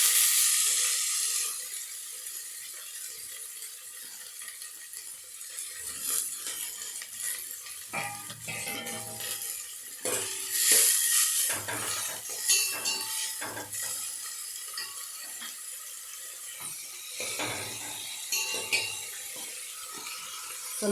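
Onion, dill leaves and green chilli hit hot oil with cumin seeds in a pan, giving a steady sizzle and crackle with intermittent stirring scrapes and utensil clinks throughout.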